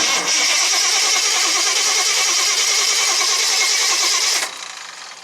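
A barn-stored Jeep J4000 engine cranking over on the starter without firing, a loud, steady, rhythmic churning that runs for about four seconds and then cuts off abruptly, close by with no talking.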